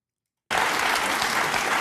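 Studio audience applause bursts in after a moment of silence and holds steady and loud, a dense wash of many hands clapping with no voices over it.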